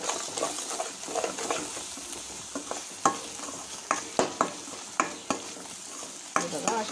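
A spoon stirs egg curry masala with chili powder in a pan, giving soft repeated scrapes and clacks over a light frying sizzle, close up and without talk.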